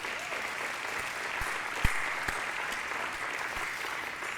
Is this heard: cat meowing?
no